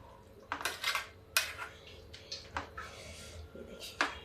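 Spoon scraping and clinking against a bowl as chokha, an uncooked mashed dish, is stirred, several short bursts in an irregular rhythm, close by.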